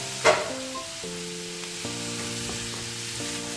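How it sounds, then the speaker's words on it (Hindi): Chopped capsicum, carrot and spring onions for desi chowmein sautéing in a pan on a gas stove, a steady close sizzle with a brief stirring clatter at the start, under soft background music. "हमारी वेजिटेबल्स गैस के ऊपर सॉटर हो रही हैं"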